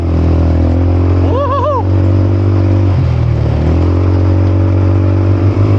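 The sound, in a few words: vehicle driving at full throttle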